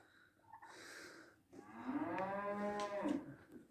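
A cow on a farm gives a long, loud, drawn-out moo close by, preceded by a shorter lower call, with no talking.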